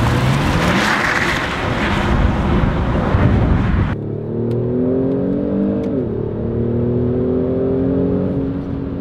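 A Kia Stinger GT engine in sport mode with active engine sound enhanced roars hard under acceleration, then shifts into a higher, rising whine with climbing tones as the revs build, loud and close.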